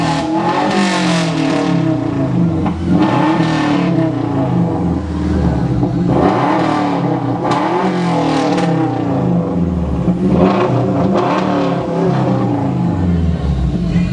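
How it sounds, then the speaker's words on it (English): Subaru Legacy engine revving loudly and raspily for the whole stretch, the pitch climbing and falling across several throttle blips, close to the microphone with no talking over it. "definitely got a raspier sound than the average car."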